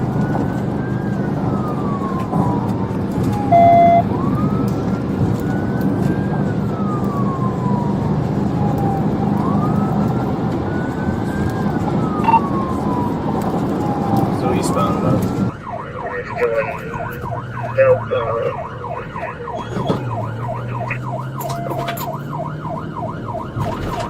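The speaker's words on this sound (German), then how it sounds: "Während die Sirenen in ganz Chicago heulten" Police sirens wail through Chicago during a highway pursuit, rising and falling steadily for about fifteen seconds, then giving way to a rapid yelp pattern over road and engine noise, with radio chatter in the background.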